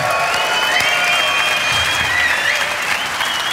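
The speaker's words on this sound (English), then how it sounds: "An enormous round of applause" Loud, dense studio audience applause for rugby guest Steve Thompson, sustained and steady throughout with light cheering mixed in.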